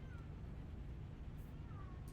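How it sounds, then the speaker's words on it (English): A bored cat indoors meows loudly twice, drawn-out calls rising and falling, heard fairly close over a steady low background hum. "Oh, those are big meows."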